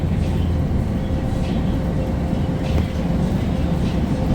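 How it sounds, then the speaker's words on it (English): A Canadian Pacific locomotive train passes nearby at night, a steady heavy low rumble with rolling rail noise that stays constant throughout. "there's the locomotive there. Canadian Pacific."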